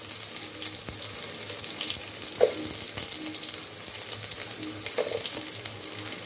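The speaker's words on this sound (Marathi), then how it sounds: "आता कांदा चांगला आपण फ्राय करून घ्यायचा आहे" Onion sizzles in hot oil tempering with garlic in a pan, a soft steady frying hiss with a couple of faint stirring clinks, no voices.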